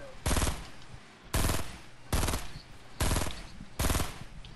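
Video game gunfire rattles out in five loud, evenly spaced automatic bursts, each a short harsh burst of rapid shots close to the listener.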